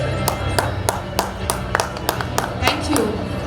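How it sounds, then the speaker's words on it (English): Sharp, evenly spaced hand claps ring out at an awards show, roughly a dozen loud strikes over a constant low room murmur. "Can we have huge claps?"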